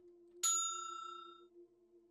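Bell sound effect in a video game under development: a single bright metallic ding, close and clean, that rings out and decays over about a second above a faint steady hum.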